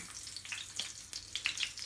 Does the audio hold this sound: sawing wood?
no